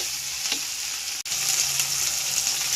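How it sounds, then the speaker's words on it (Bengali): Ginger paste fries hard in a pan with tomato for vegetarian ghugni, a loud, dense, continuous sizzle with stirring scrapes and one brief dropout partway through. "এবারে দিয়ে দিচ্ছি আদা বাটাটা ভালোভাবে কষিয়ে নেব"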